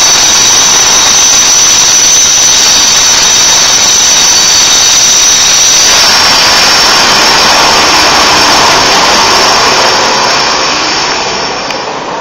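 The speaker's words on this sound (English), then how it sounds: "This is my landlord redoing the floors." A floor refinishing machine runs indoors during floor redoing, a loud, continuous roaring whine that holds steady throughout with no pauses, easing off slightly at the very end.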